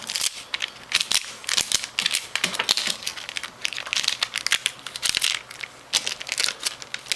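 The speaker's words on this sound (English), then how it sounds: "Here's a quick tip for picking up stickers like this. Get a little bit of packing tape" Packing tape crinkles and crackles while it lifts stickers off a 2x2x1 Rubik's cube, making a close, busy run of rustling bursts with no speech.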